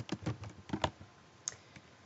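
Keys on a computer keyboard being typed in a short burst of quick, irregular clicks, close and fairly quiet, while a business letter is written; a few scattered taps follow after a pause.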